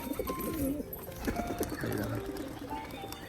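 Green Rajshahi pigeons in a cage cooing close by, repeated throaty warbling coos in short phrases over a low background murmur.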